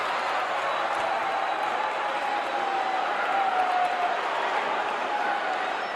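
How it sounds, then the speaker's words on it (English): Steady, distant crowd noise fills a wrestling arena during a tag-team match, a continuous roar with no distinct claps or peaks, holding at an even level throughout. "this crowd here is really and truly enjoying a night of action"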